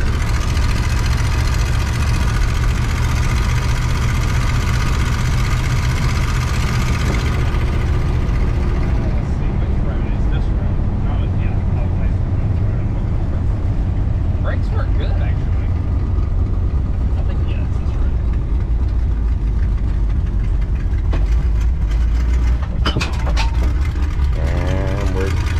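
A 1976 Dodge Sportsman camper van's engine runs steadily while driving, a continuous low rumble with rattles and knocks from the cabin, and people talking over it.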